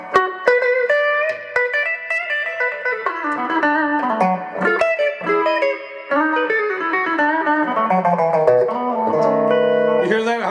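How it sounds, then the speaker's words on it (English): Cheap lawsuit electric guitar with its middle pickup position wired out of phase, giving a thin, hollow, nasal tone as notes and chords are picked steadily and closely, with several sharp attacks. "a lot of them have the middle position out of phase."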